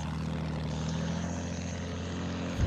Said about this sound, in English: There's a plane, by the way, Fidelis.